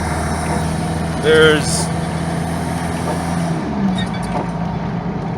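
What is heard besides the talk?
Chevrolet S10 2.2 litre turbo diesel engine at half throttle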